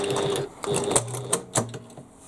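A sewing machine runs in short bursts as it stitches around a curved bag piece, its motor whirring alongside a rapid mechanical needle clatter, close and moderately loud, with no talking.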